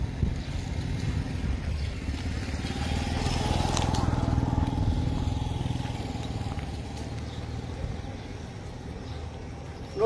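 Sewage water flows through a blocked residential drain between two schools, a low steady rushing wash heard close with wind buffeting the microphone, swelling slightly midway and then easing.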